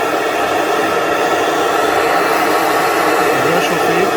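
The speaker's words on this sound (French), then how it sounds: "il faut vraiment la mettre au bout de la flamme bleue" Gas torch with a blue flame heating metal, a loud, steady roaring hiss held close and unbroken throughout, with no voices.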